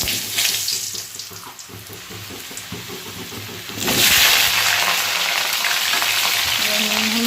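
Chopped vegetables tipped into hot oil tempered with nigella seeds in a pan, a quiet crackle that bursts into a loud, sustained sizzle when they land, with stirring and no talk.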